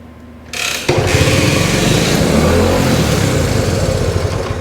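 A 1966 Honda S90 motorcycle that has had a no-spark problem is kicked over and its small engine sputters to life, then runs loud and close in a rough, uneven idle.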